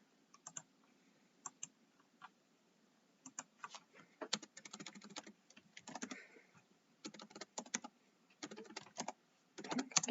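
Typing on a computer keyboard, heard during a Roblox clothing-design livestream. The keys click in irregular bursts and runs that come fairly close and clear, with short pauses between them and no talk over the typing.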